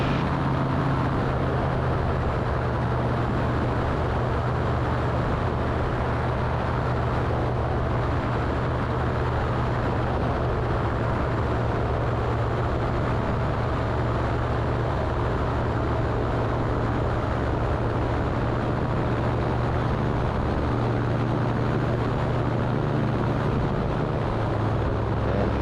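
A seaplane's engine drones steadily and loudly throughout, with a broad low hum and a constant rush of air, while the aircraft runs low over the water and skims its surface.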